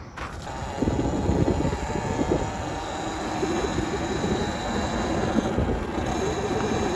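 A 72V Talaria electric dirt bike rides along, giving a steady broadband rush of wind and tyre noise with a faint motor whine, continuous and close throughout without a combustion engine note.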